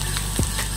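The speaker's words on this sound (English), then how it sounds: "we're going to add our garlic to the butter. Stir it around nicely." Garlic sizzling in melted butter in a pan as it is stirred, a constant bright hiss with one soft scrape of the spoon midway, close and brief.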